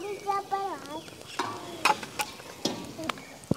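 Sarson ka saag fries in a pan in a Pakistani village kitchen: a soft sizzle with a string of scraping, clacking spoon strokes spaced unevenly, and a brief voice near the start.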